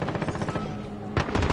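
Rapid automatic gunfire rattles in a Call of Duty Modern Warfare match, a fast even burst that eases off and then comes back hard and louder near the end.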